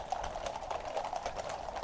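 Royal cavalry horses of the Lifeguards and Blues and Royals clip-clop outside the barracks during an inspection, a steady, close run of overlapping hoofbeats on hard ground.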